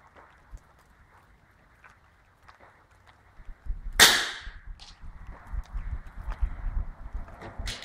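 A single sharp FX Boss 7.62 air rifle crack rings out after a stretch of quiet outdoor ambience, followed by faint rustling and shuffling.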